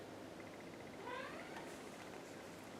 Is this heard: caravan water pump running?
no